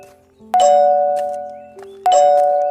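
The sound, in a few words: temple bell ringing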